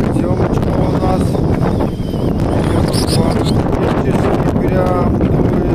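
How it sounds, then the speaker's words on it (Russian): Strong wind blowing across an open frozen lake during winter ice fishing, with drifting snow: a steady, loud broadband roar buffeting the microphone throughout, with no pauses. "Прям дует."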